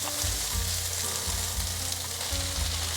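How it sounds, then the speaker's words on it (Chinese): Spinach being stir-fried with dried tofu and wood ear mushrooms in a hot pan, a loud steady sizzle close up, with regular low scraping strokes from the spatula. "把菠菜炒软。"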